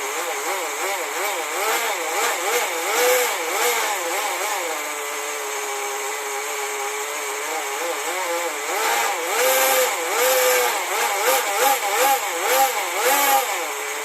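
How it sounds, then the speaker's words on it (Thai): Go.15 nitro engine in a 1/10 Bigfoot RC monster truck, running continuously with a buzzing, wavering two-stroke whine that rises and falls as the throttle is blipped, loud and close throughout with no talking. "เครื่องแรงเบาเยอะมากนะครับแต่น้ำมันไม่หนาขึ้นเลยนะครับ"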